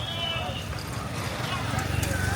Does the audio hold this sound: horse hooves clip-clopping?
yes